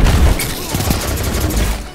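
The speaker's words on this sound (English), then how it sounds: "You gotta love the explosions, though." Booming explosions and rapid gunfire burst from a multiplayer shooter game, loud and dense at the start and rumbling on throughout with no voice in between.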